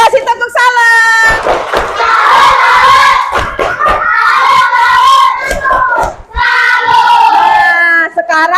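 Schoolchildren in an Indonesian classroom perform a tepuk salam clapping greeting, a loud group chant with shouted voices and bursts of hand claps running the whole time.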